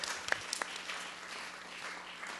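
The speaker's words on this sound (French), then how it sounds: "Est-ce qu'on peut applaudir le Seigneur?" A church congregation claps for the Lord during a healing service, a scattered, fairly soft patter of hands with a few sharper individual claps early, sounding somewhat distant.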